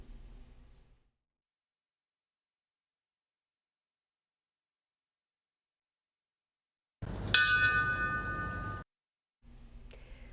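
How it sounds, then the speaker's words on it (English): A single bright bell strike at the Naval War College in Newport, rung in a 9/11 memorial, rings out with harmonic overtones and decays over a couple of seconds, framed by stretches of low rumble and near silence. "Bells rang at the Naval War College in Newport Friday in memory of students and staff killed"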